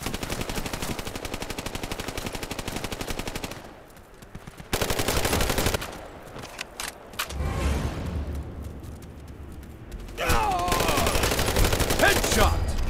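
Rapid video-game gunfire in a multiplayer Kingslayer match, bursts of automatic shots cutting in and out with brief gaps, loud and close, ending in a long sustained volley.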